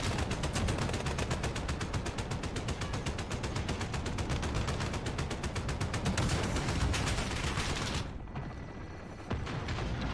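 Rapid, dense gunfire crackles nonstop in Call of Duty Modern Warfare for about eight seconds, a loud chain of close shots that cuts off abruptly and leaves a quieter tail.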